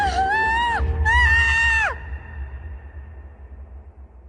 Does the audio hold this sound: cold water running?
no